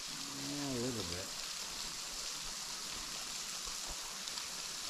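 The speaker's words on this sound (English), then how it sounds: "Some waterfall. It's like a gutter shower off a roof." Small waterfall on a Cloudland Canyon trail, trickling like gutter runoff off a roof, heard as a soft, steady rushing hiss; a person speaks briefly at the start.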